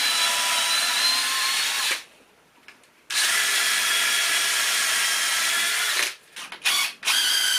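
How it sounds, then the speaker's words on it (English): Power drill boring through pallet wood during a DIY bar build: a loud, steady high whine runs for two seconds, pauses briefly, then drills on for about three more seconds before stopping with short stuttering bursts. "So we'll just drill that through a little bit."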